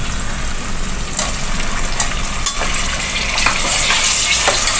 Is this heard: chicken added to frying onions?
yes